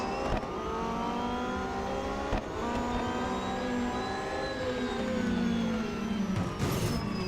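A Porsche races around the Melbourne circuit in the mobile game Real Racing 3, its engine droning and revving continuously at steady volume with shifting pitch, alongside other cars and a couple of brief impact thuds.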